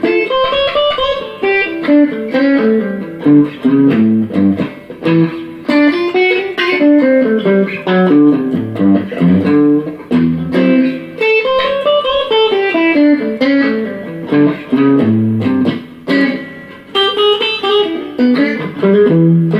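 A blues electric guitar lick built on a dominant 7 arpeggio: a continuous, fluid run of overdriven single notes with effects, loud and up front for about twenty seconds, no voice.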